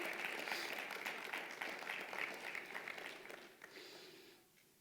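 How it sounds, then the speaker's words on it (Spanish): A church congregation applauds during a sermon at a Baltimore service, a dense wash of many hands clapping that stays steady and loud before gradually fading toward the end. "Dale un aplauso fuerte al Señor"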